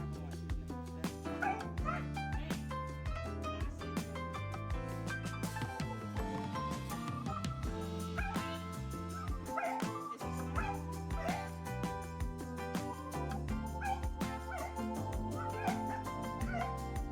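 A three-year-old husky at its first grooming whines and yips repeatedly, the cries steady and fairly close, set over a constant bed of background music.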